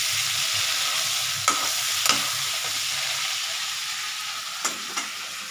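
Potatoes and pointed gourd fry in a pan with a steady, close sizzle, broken by a few sharp clacks as a utensil stirs and scrapes them, with no talking.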